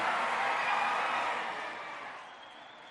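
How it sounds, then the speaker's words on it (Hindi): Applause for Chief Minister Revanth Reddy at an iftar dinner in LB Stadium: a dense, steady wash of many hands that gradually fades over a few seconds, with no voices on top. "जोरदार तालियां, जोरदार तालियां"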